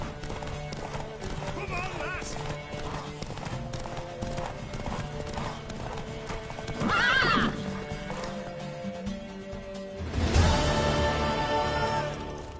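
Horse hooves clip-clop and a horse neighs loudly, with a second whinny near the end, close and clear over a busy background of music and voices.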